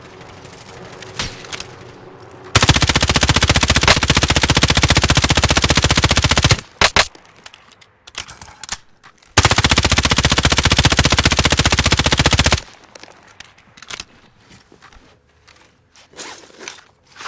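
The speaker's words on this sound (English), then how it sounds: "Under fire here!" Online duos play in Call of Duty: Modern Warfare on PS5 brings two long, loud bursts of sustained automatic gunfire, with shorter shots and clatter scattered between and after them.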